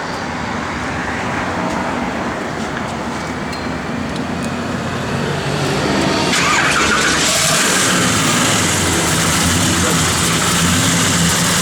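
A 1972 Chevrolet Chevelle convertible's engine runs close by with a loud, continuous low rumble that swells slightly near the end, with no voices.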